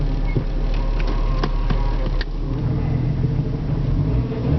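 A vehicle engine strains with a low, steady rumble as it begins moving, faint ticking over the top and no speech.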